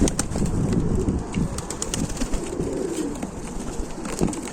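Ukrainian high-flying pigeons in a dovecote, coos blending into a steady murmur of cooing and fluttering that runs the whole time at close range.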